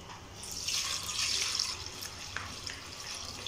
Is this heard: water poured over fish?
yes